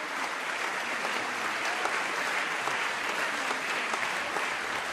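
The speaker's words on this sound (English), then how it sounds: "The applause for this new anthem to Derry spills out into the city." Steady, dense applause from a large crowd celebrating a new anthem for Derry, sustained and even throughout with no break.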